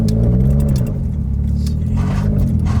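A tuned Subaru WRX making about 400 wheel torque pulls hard under acceleration, its engine droning loud and close with rising harmonics and a brief dip mid-pull, heard from inside the car.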